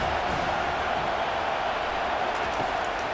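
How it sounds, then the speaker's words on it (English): A large football stadium crowd roars in a steady, dense wash of noise as the defense lines up on third down, loud and sustained without a break. "Decibels rising as the crowd gets behind this defense on 3rd down."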